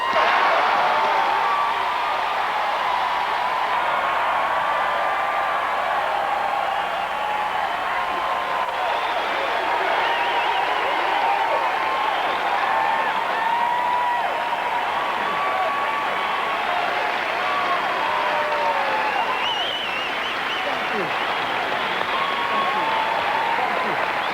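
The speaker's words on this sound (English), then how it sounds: "Please let us give a big round of applause to Mr. Richard Pryor." A studio audience at a Comedy Store anniversary show breaks into sustained, dense applause with whoops and cheers for a comedian taking the stage, steady and loud throughout with no break.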